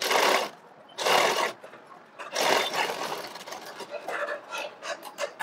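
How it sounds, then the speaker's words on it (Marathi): Sewing machine stitching the sleeve seam of a blouse: close, bursts of rapid rattling stitching, two strong runs and then shorter, choppier runs, with brief pauses between them. "इथं आपल्याला शिलाई मारून घ्यायची आहे"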